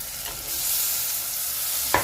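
Spice powder added to a hot pan, a steady close sizzle holding at an even level throughout, ending with a single sharp scrape of the spoon, with no talking.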